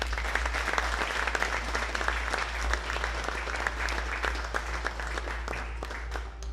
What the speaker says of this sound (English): Let's clap her off the stage.